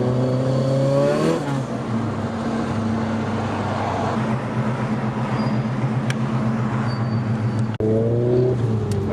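Nissan S15 fitted with a Precision turbo accelerates hard in a pull, engine note climbing steadily through a gear, briefly dropping at a shift, then rising again, loud and close from inside the car.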